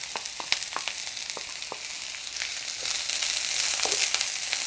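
Sweet onion and garlic sizzling in a pot while being stirred, a continuous frying hiss that grows slightly louder, with several sharp spoon taps and scrapes near the start, close and without speech.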